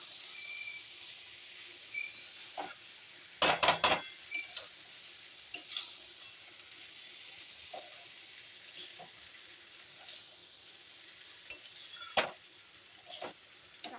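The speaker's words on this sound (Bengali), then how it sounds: "দিয়ে এবার এটাকে ভালো করে মশলাটার সাথে কষাবো।" Washed rice with cashews and raisins is stir-fried with masala in a pan: soft, continuous sizzling broken by scattered spatula scrapes and clicks, with one brief burst of louder scraping early on.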